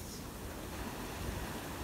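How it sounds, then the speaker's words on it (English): Ocean waves washing onto a beach, a faint, steady rush of surf mixed with some wind noise, with no voices. "Turn on the audio and listen to the waves."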